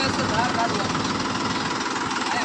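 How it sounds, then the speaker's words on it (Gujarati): A steady, rumbling tractor engine idling close by near a wheat field, running evenly throughout with no pauses. "ટ્રેક્ટર પાછળ લે છે"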